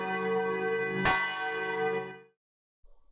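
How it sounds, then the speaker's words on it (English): A single bronze bell rings once with a bright metallic strike, its rich overtones hanging and fading for about two seconds before falling to silence, followed by a faint low sound. "until I heard the bronze bell ring a moment later."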